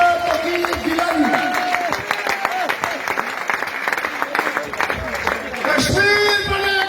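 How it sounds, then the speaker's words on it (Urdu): Applause at an outdoor rally sit-in as the zonal president of the Liberation Front takes the stage, a dense continuous crowd clapping with whoops while an announcer speaks over a loudspeaker, swelling louder near the end. "زونل صدر جناب ڈاکٹر توقیر گیلانی آپ کی تالیوں کی گونج میں تشریف لاتے ہیں"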